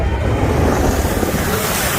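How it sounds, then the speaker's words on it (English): Loud roaring rush of water splashing down onto riders of the Aquaman Power Wave water ride at Six Flags Over Texas, broad and continuous with wind buffeting the microphone, close by. "They just got splashed pretty good"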